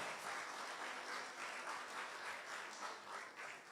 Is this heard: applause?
yes